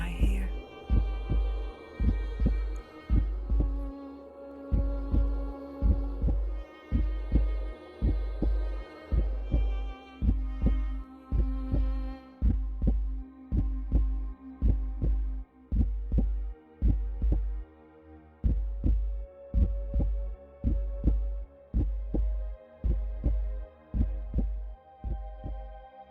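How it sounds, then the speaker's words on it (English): Heartbeat sound effect in a spooky horror story ambience, a steady deep double thump repeating throughout over a faint droning background. "Everywhere around me, I hear the beating of a heart."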